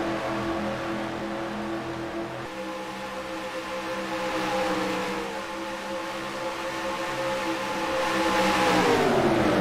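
Race cars in the NR2003 racing game at Lowe's Speedway roar past in a steady, droning engine blend that swells and shifts in pitch as they slipstream and overtake, with no talking.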